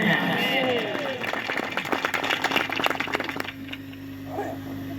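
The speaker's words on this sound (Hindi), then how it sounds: "हाथ उठा के ताली बजा करके बोलिए आमीन।" A church congregation claps hands together in a dense burst of rapid claps for a couple of seconds after a preacher's call, then fades out to a hum as talking resumes.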